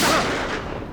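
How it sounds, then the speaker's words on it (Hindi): A single sharp gunshot with a booming, echoing tail that fades over about a second. "गोली चलने की आवाज कहां से है?"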